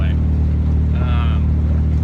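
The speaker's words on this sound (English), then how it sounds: "the exhaust from the collector back is gone, so it's a little fruity" A Toyota 4Runner engine, with its exhaust missing from the collector back, rumbles loud and raw while the truck creeps slowly along an empty gravel road; a voice talks over it.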